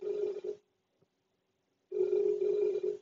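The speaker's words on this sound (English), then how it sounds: "Y'all, my phone is ringing." A phone rings in two long, loud bursts with a quiet gap between them, heard alone with no talking.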